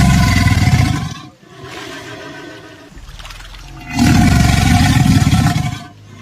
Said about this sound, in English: alligators will force air through their lungs and vibrate their vocal cords to create a sort of roaring sound